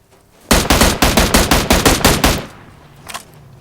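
Drop-weapon fire in PUBG on the Miramar desert map: a loud, rapid burst of about a dozen evenly spaced shots lasting two seconds, then a lone fainter shot a moment later.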